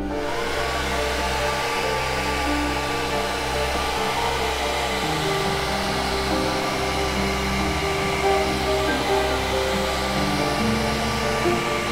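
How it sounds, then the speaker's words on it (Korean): A hair dryer blows steadily with a constant whooshing roar and motor hum, loud and unbroken the whole time. "이 헤어드라이기도 키면요, 이렇게 바람이 나오는데요"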